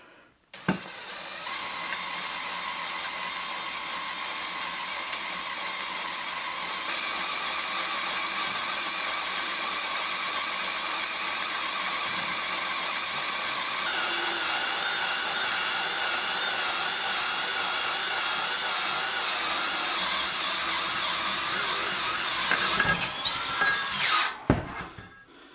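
A power drill fitted with a Bosch Pointec HSS bit bores into steel, giving a steady, loud, high whine that runs for about twenty seconds before winding down with a brief clatter at the end.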